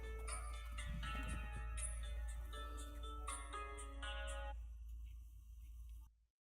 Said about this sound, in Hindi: साहब जी आपका फोन आ रहा है।